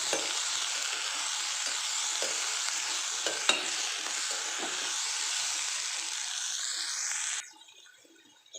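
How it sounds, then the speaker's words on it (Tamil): Vegetables sautéing with salt for sambar in a pan: a steady, close frying sizzle with stirring scrapes that holds evenly for about seven seconds, then cuts off into near quiet. "நல்லா உப்பு போட்டு வதக்கிட்டு பருப்பையும் இதிலே போட்டுடலாம்."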